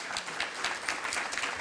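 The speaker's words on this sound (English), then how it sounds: "Let's give a round of applause to our panelists." Audience applause for a panel of speakers at a conversation event, a steady wash of many hands clapping close and full for the whole moment, with no talk over it.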